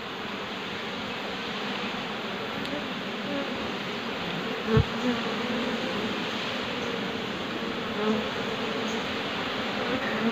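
A steady, dense drone of many Asian honey bees (Apis cerana) buzzing close up at a hive, continuous and loud throughout with no talking.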